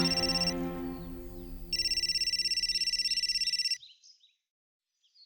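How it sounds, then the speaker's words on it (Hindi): A phone rings with an electronic tone in repeated pulsing bursts, fairly close, then stops abruptly into silence. "किसका फोन आ गया?"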